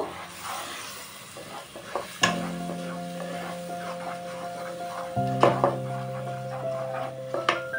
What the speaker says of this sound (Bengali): এখানে আমি তেলের মধ্যে মশলা পেস্ট সেটা দিয়ে কিছুক্ষণ কষিয়ে নেব।